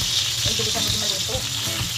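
Food sizzles and fries steadily in a pan as a home dinner cooks, a dense continuous hiss with small crackles and pops throughout, with no one talking.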